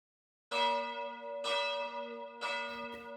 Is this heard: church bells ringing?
yes